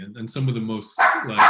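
A pet dog yips and barks in a couple of short bursts close by, mixed in with a person talking over them.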